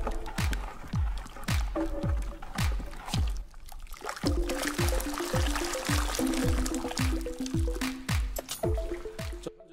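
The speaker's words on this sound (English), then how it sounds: "I've started to stir constantly" A sulfur and cold-water mixture is stirred, giving repeated rhythmic squishy, dripping liquid sloshes with some pouring sounds, close and fairly loud.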